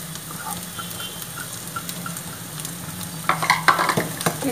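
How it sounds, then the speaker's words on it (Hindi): Grated ginger frying in a pan with sautéed onion, a steady soft sizzle throughout, stirring scrapes and louder crackles near the end, no voices. "इसको अच्छे से हम भूनेंगे"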